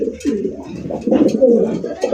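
Big Gopalganj pigeons, a fancy breed in a dealer's loft, coo close and loud in a throaty, rolling stream of overlapping low calls that swell and dip without pause.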